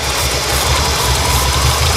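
A 1989 Winnebago LeSharo RV engine idles steadily and loudly up close, a continuous low rumble with a broadband mechanical hum and no breaks or revving.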